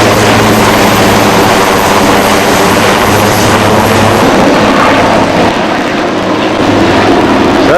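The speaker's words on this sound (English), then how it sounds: "Navy helicopters circling the area." A loud, continuous drone of Navy helicopters circling during hurricane rescue efforts, with rhythmic rotor thumping, steady and close throughout, with no voices.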